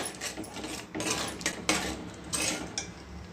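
Egg kurma masala being stirred and fried in a pan, a spoon scraping and clinking against the metal in repeated bursts of about a second each, close and fairly loud, no talking.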